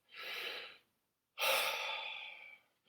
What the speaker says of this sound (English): Breathe in and out through your nose from your diaphragm.